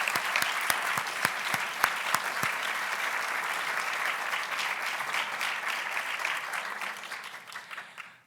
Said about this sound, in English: so we can give you a round of applause